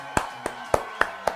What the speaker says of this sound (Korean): 박수 한번 치고 시작하죠